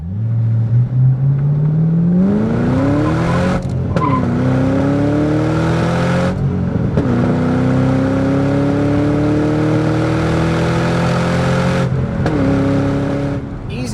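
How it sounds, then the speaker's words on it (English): A factory supercharged 2005 Saleen Mustang with a 4.6 engine under hard acceleration, loud rising engine tone climbing through several gear shifts, each marked by a brief drop and break before pitch climbs again, heard close from inside the car. "we'll see if we can't do a little hard acceleration here real quick"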